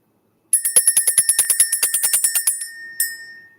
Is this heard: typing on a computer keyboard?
no